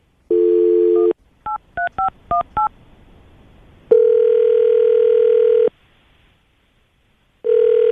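A telephone dial tone, then a quick series of keypad tones as a number is dialed, followed by ringback tones.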